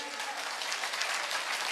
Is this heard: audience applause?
yes